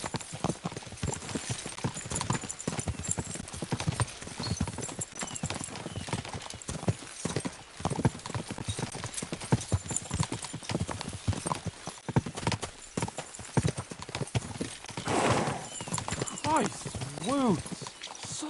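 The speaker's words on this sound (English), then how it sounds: "We should spur the horses on." Steady clip-clop of galloping horses with a whinny near the end, mixed with voices and busy background noise, in the video game Kingdom Come: Deliverance II.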